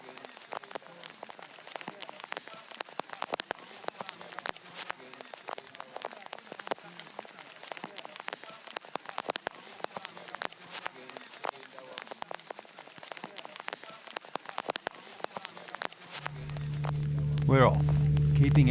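Rain falls through a Ugandan forest as a dense patter of drops striking leaves and a plastic raincoat. The sharp, irregular hits are close and continuous, and a low rumble and movement rise at the very end.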